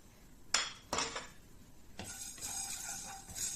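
Whole spices such as cumin are dry roasted in a pan for pepper chicken: two sharp metallic clinks of a utensil against the pan, then quiet scraping and stirring, all faint and close.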